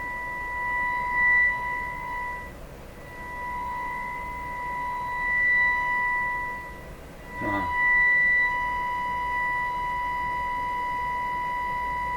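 Nordmende Turandot tube radio is tuned, producing steady whistling tones and hiss that shift and briefly break off in a short crackling sweep midway before settling, with no talking.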